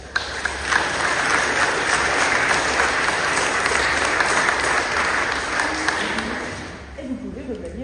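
A church congregation applauds young people during a Sunday Protestant service in Mertzwiller, steady dense clapping filling the room for several seconds before thinning out near the end as faint voices and music begin.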